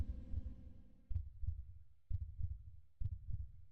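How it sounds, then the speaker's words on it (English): In the horror game The Closing Shift, a heavy, muffled heartbeat thumps in a steady lub-dub rhythm, four beats in quick succession, low and quiet with a faint hum under it and no voices. "Why is my heart beating like that?"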